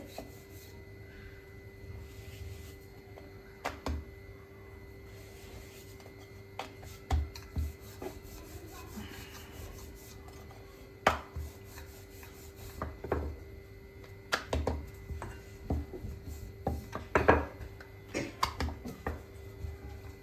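A rolling pin rubs and rasps over floured dill paratha dough on a board, with irregular soft knocks and scrapes close by and no talking.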